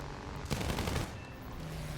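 A burst of machine gun fire from a plane in War Thunder, a loud rapid rattle lasting about half a second over a steady engine drone, with no talking.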